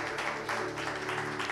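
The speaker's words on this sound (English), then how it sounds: "Clap your hands and give the Lord" Congregation clapping hands in praise during a church service, a dense continuous patter of many hands under a steady hum of music.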